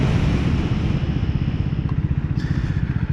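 A Triumph Scrambler 400 X motorcycle rumbles close by as it slows under front braking, the single-cylinder engine note dropping into a pulsing, uneven idle-like thrum.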